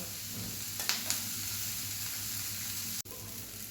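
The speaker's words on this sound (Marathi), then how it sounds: "आता कांदा आपल्याला छान भाजू द्यायचा अगोदर लसूणसुद्धा आपला सॉफ्ट होईल" Onion and garlic fry in an open pan, an even, moderately quiet sizzle with a couple of light clicks and a brief stir near the end.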